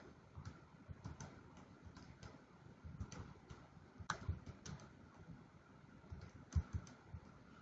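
Numbers being keyed into a calculator, with a quiet, irregular series of small plastic clicks and taps, some sharper presses standing out, against a soft room background.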